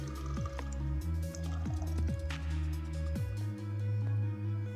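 Meat stock from steamed meat pours into a pot of jollof rice in a few splashing bursts, with glugging drips and rising gurgles as it fills.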